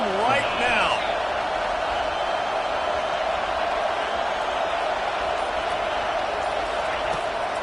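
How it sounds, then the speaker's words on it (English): Home crowd in a Madden football video game roars without letup, a dense, loud wall of cheering held steady from start to finish. "how nice is it to have the home crowd going absolutely bananas"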